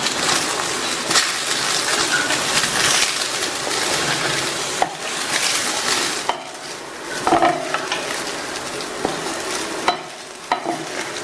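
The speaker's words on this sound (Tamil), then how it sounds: "நல்லா சாதம் சூடு ஏறுற வரைக்கும் நல்லா கலந்து விடணும்" Brinjal rice being stirred and mixed in a hot pan on the stove, a continuous soft scraping and light sizzle with a few sharper clinks of the spoon against the metal, fairly close and steady throughout.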